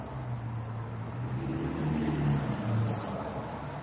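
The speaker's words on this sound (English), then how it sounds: "That's how we can hear the traffic so well." Road traffic passes steadily, with a continuous low rumble of car engines swelling slightly in the middle as vehicles go by at a moderate distance. No one speaks.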